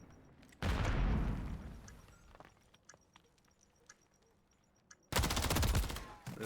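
Artillery fire in a Call of Duty match, two heavy booming blasts separated by a few seconds of scattered distant pops and clicks.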